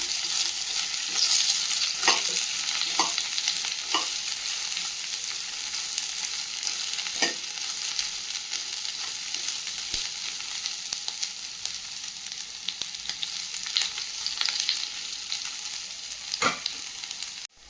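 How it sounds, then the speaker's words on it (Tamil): Onions frying in a pan until deep maroon: a steady, loud, hissing sizzle fills the whole stretch, broken by a few light scrapes and taps of a spoon stirring. "அதே கடையில் ஆனியனை நல்லா மெரூன் கலர் ஆகிற வரைக்கும் பொரிச்சுக்கலாம்"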